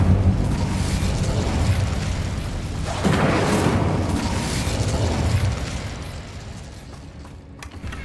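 In the Hogwarts Legacy game, an Incendio fire spell bursts out with a loud fiery whoosh and a rumbling blast over steady game ambience, then fades to a quieter background.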